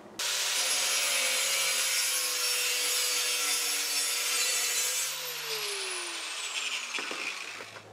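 A steel blank for a Fairbairn–Sykes fighting knife is cut out with a power tool, giving a loud, continuous abrasive whine with a steady drone. The tone falls late on as the cut slows and then stops. No one speaks.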